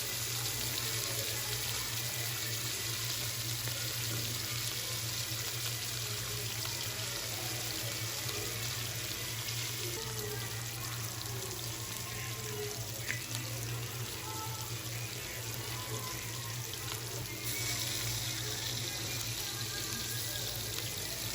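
Hilsa fish pieces frying crisp in hot oil, a steady dense sizzle and crackle that runs continuously and evenly throughout, with no voices over it.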